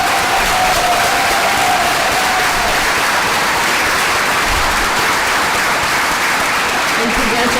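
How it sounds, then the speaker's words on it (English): Audience applause fills a room at a Canine Companions team training graduation ceremony, honoring donors; steady, dense clapping continues throughout at close range, with some voices mixed in. "If we could have a round of applause for them."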